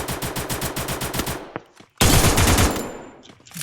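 Rapid automatic gunfire from a shooter video game rattles in a fast burst, stops briefly, then resumes louder and denser, close and dominant.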